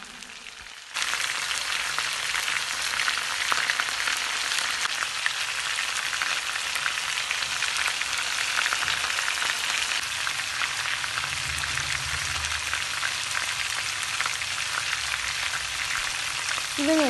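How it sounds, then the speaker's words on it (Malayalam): Chicken pieces fry in hot oil with a dense, steady hiss and crackle that starts abruptly and continues evenly, close and alone without talk. "ഇതുപോലെ എല്ലാം ഫ്രൈ ചെയ്തെടുക്കണം കേട്ടോ"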